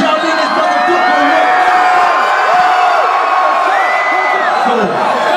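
A concert crowd at the El Rey Theatre cheers loudly and continuously, with many shouts and whoops rising over a dense roar of voices.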